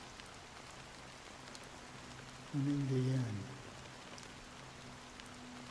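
Steady rain falling in Honkai: Star Rail's Penacony, a soft continuous patter with scattered drops, under a brief spoken line in the middle.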